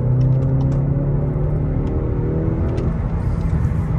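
A Skoda car with automatic transmission accelerates hard after a kickdown, heard from inside as a loud, steady low engine drone with rising harmonic tones and no talking over it.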